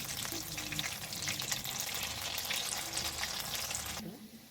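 Raw banana slices fry in hot oil with a steady, close sizzle that suddenly quiets near the end.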